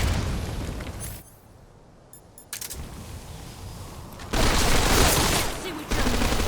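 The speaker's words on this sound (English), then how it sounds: "Grenade!" In a video game boss fight, grenade explosions erupt as loud, broad bursts: one sustained blast, a quieter lull, then heavier detonations near the end, set against rumbling combat noise.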